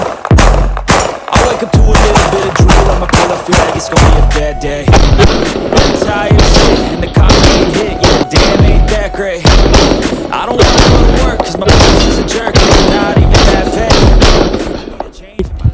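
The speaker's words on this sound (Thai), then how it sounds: "ทำการยิงชุดที่สองนะครับ เป็นการยิงต่อเนื่อง" Continuous pistol gunfire from a SIG P365 or P938 at a shooting range, a rapid string of loud, close shots ringing out back to back.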